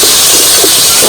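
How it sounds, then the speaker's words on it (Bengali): Chilies fry in a hot pan for a jackfruit and egg dish, giving a loud, steady, close sizzling hiss that runs unbroken with no talking. "লঙ্কাটা ভেজে নিচ্ছি"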